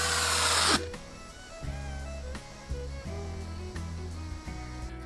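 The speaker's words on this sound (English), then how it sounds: "I finished it using spray-on polyacrylic." A spray can of polyacrylic finish hisses in a loud, steady burst lasting under a second, then stops, leaving a low mechanical hum with faint rhythmic thumps.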